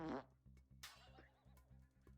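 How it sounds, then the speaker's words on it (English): A cartoon fart sound effect, set off by a streamer's angry emote, gives a short burst followed by a few quieter squeaky, wobbling toots; no one speaks. "I fart when I'm angry."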